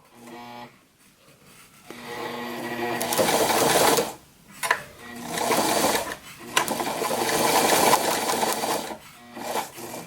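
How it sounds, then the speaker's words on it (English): A sewing machine stitches Velcro onto a homemade fabric bar mitten for cycling handlebars, running in several close bursts of rapid mechanical whirring with brief pauses between them. "so I can sew this bit of Velcro in"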